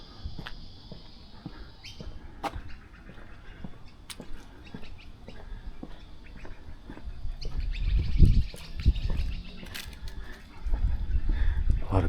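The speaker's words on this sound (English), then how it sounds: "A lot of birds around." Birds chirp in Sydney bushland beside an old aqueduct turned cycleway, with sharp scattered calls and tweets at moderate distance, faint rustling and low wind-like rumble growing louder toward the end.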